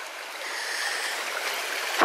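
A woodland stream on a hike near Cheddar flows with a steady, even rush of water, unbroken and alone, with no voices.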